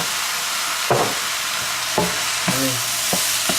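Chicken fried rice with soy sauce is stirred in a hot pan, a soft steady sizzle punctuated by four or five distinct clanks and scrapes of the utensil against the pan.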